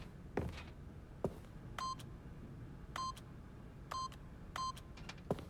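Keypad tones sound as a PIN is punched in within The Stanley Parable: several short electronic beeps in an uneven rhythm, separated by soft clicks, clear over quiet room tone.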